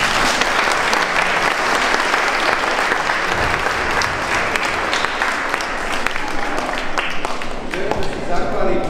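Hearty applause fills a school hall at a school-day chess tournament. A dense, loud crowd of clapping hands holds steady for the whole span with a few voices underneath.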